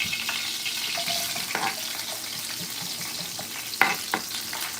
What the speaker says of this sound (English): So what I'm supposed to be doing right now is cooking onions